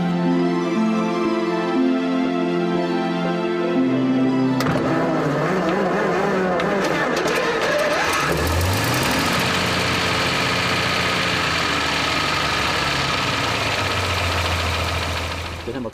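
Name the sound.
vintage car double-six engine starting and idling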